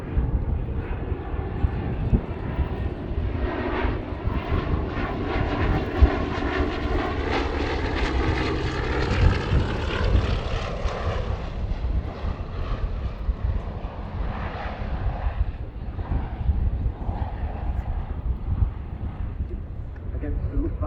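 A Bristol Blenheim twin-engine propeller aircraft flies past at a Battle of Britain airshow, its steady engine drone loud and continuous for the whole stretch, rising then fading slightly, with wind noise and faint voices beneath.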